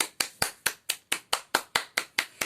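Eleven sharp, evenly spaced hand claps ring out alone in a steady rhythm, crisp and close, standing in for a crowd applauding before the town council.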